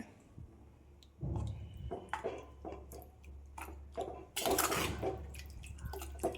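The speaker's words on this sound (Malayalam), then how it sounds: "കുറച്ച് വെള്ളം ഒഴിച്ചിട്ട് ഞാൻ ഇളക്കി കൊടുക്കാം" Water poured into a pan of chicken masala for a curry and stirred, giving wet splashing and squelching bursts with soft scraping clicks, close and moderately loud with no talk.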